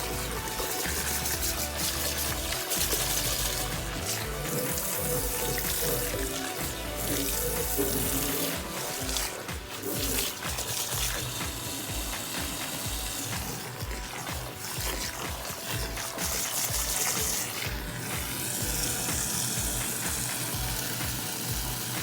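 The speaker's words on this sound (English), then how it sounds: "Now I'm going to go ahead and put my water on a stream." Water streams steadily from a tap into a sink to build up bubbles for washing, a loud, continuous rushing splash that holds constant throughout with no voices over it.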